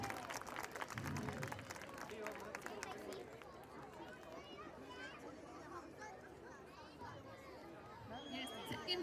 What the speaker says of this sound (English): can we have a huge round of applause for all the winners